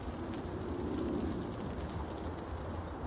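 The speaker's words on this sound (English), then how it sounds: "It's raining." Steady rain falling outdoors during a morning walk, a soft continuous hiss with low rumbling underneath, even and moderately faint throughout with no voices.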